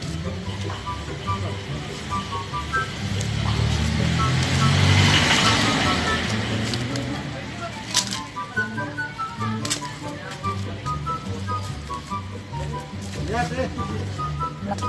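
Tricycles idle and pull away at a tricycle queue, with a low engine rumble that rises to a loud pass midway, followed by repeated short beeps and clatter while people talk nearby.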